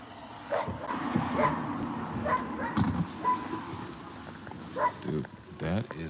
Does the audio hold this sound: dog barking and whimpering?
yes